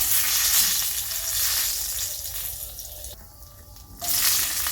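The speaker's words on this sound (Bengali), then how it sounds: "ওই তেলে আমি দিয়ে দিলাম একটু মেথি একটা দিয়ে দিলাম তেজপাতা" Fenugreek seeds and a bay leaf frying in hot oil left over from frying eggs in a home kitchen, giving a steady close sizzle that thins out briefly near the end before swelling again.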